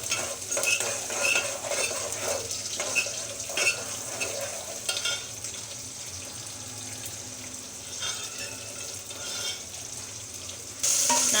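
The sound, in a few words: sautéing small onions in oil with stirring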